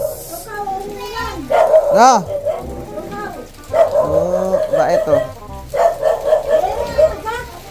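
Several dogs barking and yipping in bursts, close by, with people talking over and between the barks.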